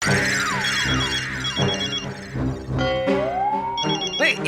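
A telephone rings loudly with bright, jangling electronic tones that pulse and overlap for several seconds, with no voices.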